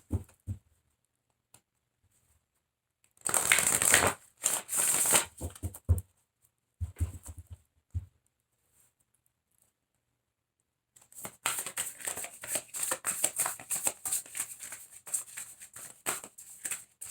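Tarot cards being shuffled by hand in bursts of crisp riffling and flicking, with a longer run of rapid papery patter near the end, close and alone with pauses between.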